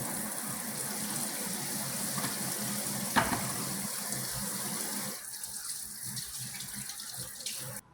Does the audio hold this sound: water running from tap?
yes